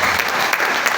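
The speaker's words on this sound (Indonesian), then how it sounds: "Kita berikan tepuk tangan." A church congregation applauds in a dense, steady burst of many hands clapping together, filling the room for a moment.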